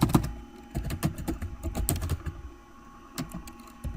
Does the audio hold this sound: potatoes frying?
no